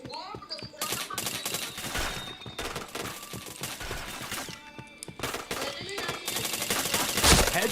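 Rapid gunfire rattles through a shooting video game in dense bursts and fusillades, with clattering shots piling up, heavier near the end, while players chatter over the action.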